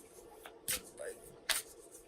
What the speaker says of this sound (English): you may hear me shuffling the Sacred Traveler Oracle cards that I'm working with today